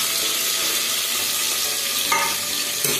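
Onion, green chili, peanuts and curry leaves frying in a pan for dry fruit masala rice, a dense continuous crackling sizzle up close with a few stirring clinks, no talking.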